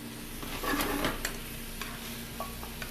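Pork chops sauté lightly in butter on a stovetop, a close, gentle sizzle with a few brief stirring and pan sounds near the start.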